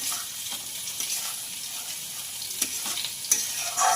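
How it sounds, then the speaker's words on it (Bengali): Fried paneer and spinach for palak paneer stirred in a pan, a constant hissing sizzle broken by a few scraping strokes of the spoon, close and steady. "এই ভেজে রাখা পনিরের সাথে পালং শাকটাকে এবারে ভালো মতো মিশিয়ে নিতে লাগলাম।"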